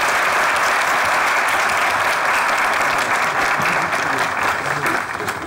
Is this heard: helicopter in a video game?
no